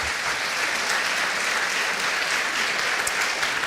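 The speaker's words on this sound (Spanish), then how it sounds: "Dale un aplauso al Señor" Church congregation applauding in praise during a Spanish-language sermon, a dense, steady wash of clapping that holds evenly from start to finish with no voices over it.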